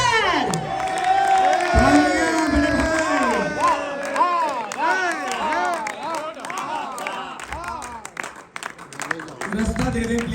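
A large audience at a stage event welcoming a guest breaks into loud applause and cheering, with whoops and shouts over continuous clapping, sustained for about ten seconds before easing off.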